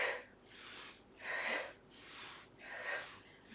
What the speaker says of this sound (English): Breathe in through the nose when we go to the left,